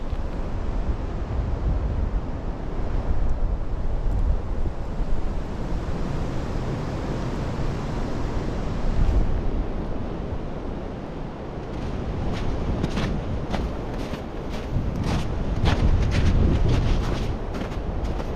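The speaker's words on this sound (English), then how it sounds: "I do not like being up here with it being this windy." Powerful wind roars and gusts without pause across a snowy mountain pass in a forest, loud and close to the microphone, with sharp crackling bursts added in the second half.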